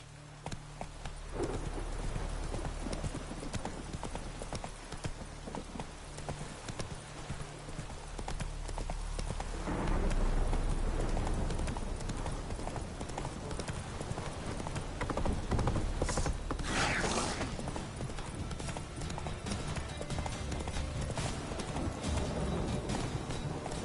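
Roach the horse galloping in The Witcher 3: Wild Hunt, with steady rapid clip-clop of hooves close by. A rain-like wash sits under the hooves, and the pace and loudness grow after the first ten seconds.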